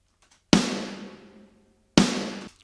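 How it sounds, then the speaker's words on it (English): Snare drum from the Dr. Bob Killer Kit blending its close mic with two room mics, hit twice with a punchy crack followed by a long, roomy decaying tail, nothing else audible. "Together, they sound like this, the two rooms and the snare,"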